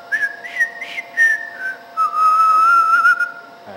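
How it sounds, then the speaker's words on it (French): A person whistles at the glottis a short series of clear, staccato notes, then holds a longer wavering tone, close and fairly loud with no talking. "voici ce qu'il se passe réellement quand vous sifflez au niveau glottique"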